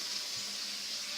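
An Indesit washing machine runs with water, a steady hiss of flowing water, fairly quiet and unbroken, with no talking.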